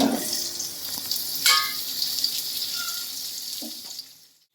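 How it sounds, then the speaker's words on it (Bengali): Papaya pieces fry in hot oil with a steady, bright hiss and light spattering that fades away toward the end, with no voices. "তেলেই আমি পেঁপেটা ভেজে নিচ্ছি"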